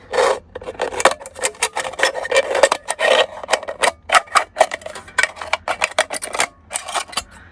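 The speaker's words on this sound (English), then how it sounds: "It's easy to do with a pair of scissors," Scissors cut through an aluminum soda can, giving a quick series of crisp, close snips and scraping crunches in an irregular rhythm, with short pauses between bursts.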